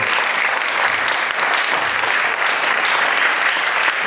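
Dense, enthusiastic applause from a large audience at an Islamic boarding school, continuous and even in loudness for the whole stretch.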